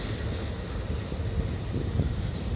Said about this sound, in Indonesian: Lokomotifnya dilangsir mundur, mau kemanakah kira-kira?